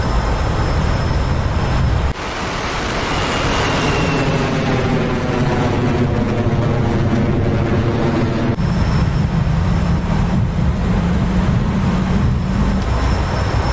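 Swing-wing bomber engines pushed to full power with wings swept forward in DCS World, a steady loud roar that rises in pitch and fills the whole clip without speech.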